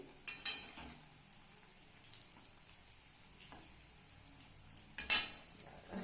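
Vegetable chops being turned in a frying pan: sharp metallic clinks of a utensil against the pan at the start and again near the end, with soft frying hiss between, close and fairly quiet.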